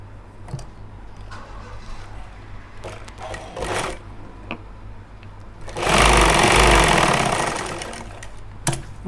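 A sewing machine stitches the mobile pocket on a pair of trousers. Scattered clicks and handling noises give way to a loud, close, continuous run of stitching that lasts a few seconds and then fades.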